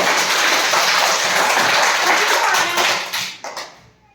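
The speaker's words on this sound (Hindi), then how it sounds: "बहुत जोर से तालियां बजाओ" A group of children claps loudly and together for about three seconds at a primary school celebration before the applause tapers off into a few scattered claps.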